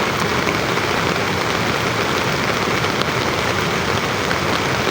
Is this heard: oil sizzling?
no